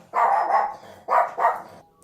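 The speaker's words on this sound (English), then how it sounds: "Getting started early with the dog bark." A dog barks in two close pairs, four sharp, mid-pitched barks at near range with brief gaps between the pairs, heard alone in a quiet indoor setting.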